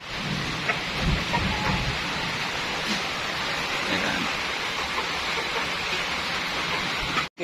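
Steady, dense rain pours down in a rural goat-raising setting, with low rumbles of thunder rolling underneath. The downpour is continuous and close, and a single short spoken word comes at the end.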